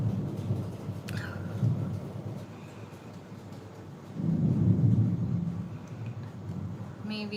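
A thunderstorm rumbles steadily with a low, rolling roar, swelling into a louder peal of thunder partway through, alongside a faint wash of rain.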